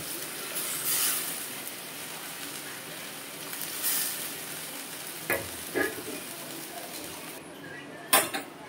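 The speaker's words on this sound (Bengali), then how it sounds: "তো বন্ধুরা তরকারিটা হালকা করে ফুটে উঠছে" Snakehead fish curry with thankuni leaves, green banana and potato bubbles and sizzles softly in a pot, with a few sharp clinks of a metal utensil against the pan near the end.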